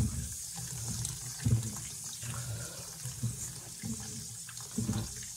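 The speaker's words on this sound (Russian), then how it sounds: "набирается вода, я ее вот так вот перемешиваю, потом воду сливаю" Tap water runs into a bowl of buckwheat grains being rinsed, a steady splashing flow with swirling and a few louder sloshes as the water is stirred and poured off, close and fairly quiet.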